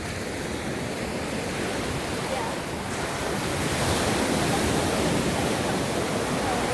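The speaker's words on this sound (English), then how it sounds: "some areas of the waves are definitely strong" Ocean surf rolls onto a beach in Punta Cana, Dominican Republic, a dense steady roar of breaking waves mixed with wind buffeting the microphone, loud and unbroken.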